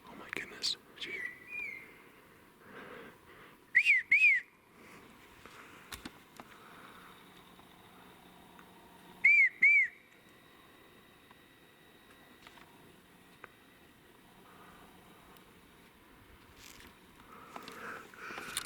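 A person whistles bird-call imitations in two short bursts, each a quick pair of bright chirping notes, about five seconds apart, with quiet rustling and faint breathy sounds between.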